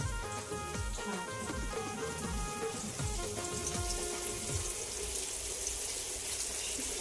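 Surmai (kingfish) slices frying in a pan make a steady, continuous sizzle, fairly loud and close, with only faint talk in the background.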